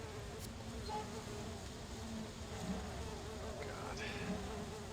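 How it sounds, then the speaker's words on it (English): Swarm of bees in the game Sudeki, a constant, close insect buzz with steady, unbroken droning and faint brief tones rising over it. "Bees! Bees? Bees. The most dangerous enemy."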